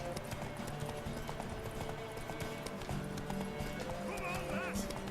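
A horse gallops in the video game The Witcher 3, with a rapid clip-clop of hooves throughout and a brief whinny, mixed under game sound.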